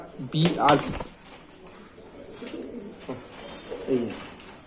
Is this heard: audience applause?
no